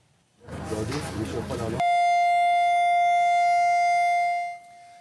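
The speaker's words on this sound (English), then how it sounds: "Sirens rang out in Israel to mark the exact moment" A voice speaks briefly, then a long steady civil defense siren tone holds for a few seconds before cutting off, loud and sustained with no rise or fall, marking one year since the Hamas attack on Israel.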